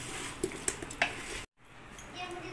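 Chicken being worked together with marinade spices in a bowl by hand: wet, squishy stirring with a few soft knocks against the bowl, close and steady, before a brief cut to quiet room sound.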